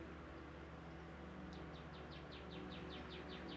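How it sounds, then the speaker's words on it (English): A bird chirps outdoors in a rapid series of short, high, repeated notes about a dozen times in quick succession, faint and distant over a low steady background hum. "Can you guys hear the birds?"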